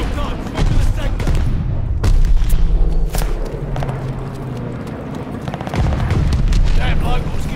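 Bomb blasts and battlefield booms from the multiplayer game Call of Duty: Vanguard, heavy low rumbles and sharp impacts over a dense mix of game noise, with voices chattering throughout.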